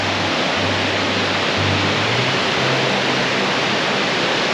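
Steady broadband rush of water pouring down White Waterfalls in the North Carolina mountains, a loud, continuous roar with no pauses, with faint low murmurs like distant voices beneath.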